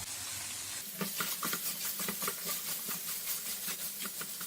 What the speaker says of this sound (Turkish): Kıyma iyice böyle kızarıp bu sesi çıkardıktan sonra